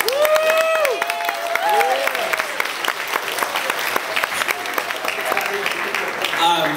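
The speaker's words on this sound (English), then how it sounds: "So you can get a round of applause." A wedding crowd breaks into loud, sustained applause for the parents, with scattered cheers and voices rising over the clapping.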